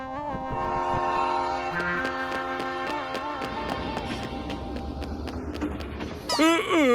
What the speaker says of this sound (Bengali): চলো চলো, ট্রেন এসে গেছে।